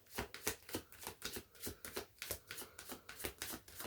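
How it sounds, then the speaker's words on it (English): A deck of cards is shuffled over and over, each riffle a crisp papery burst repeating at a steady, quick rhythm, close and fairly quiet with no talking. "I'm gonna do one more shuffle"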